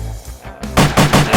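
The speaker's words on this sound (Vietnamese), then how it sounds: "Bắn bùm bùm trên đầu mình không thể báo trước luôn" Gunfire in an animated cartoon, a loud, close series of about four rapid, booming shots fired overhead, following a brief rumble and a short pause.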